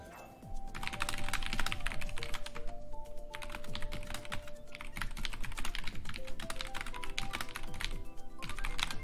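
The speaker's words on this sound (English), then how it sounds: "Stop typing, dude." Rapid computer keyboard typing clatters on and on during a Mario Kart 8 gaming stream, dense irregular keystrokes close to the microphone with a steady faint hum underneath.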